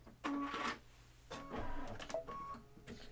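Machine embroidery stitching a spooky in-the-hoop design, heard as a fairly quiet mechanical whir with repeating rapid needle pulses that start and stop in short bursts, with no talking.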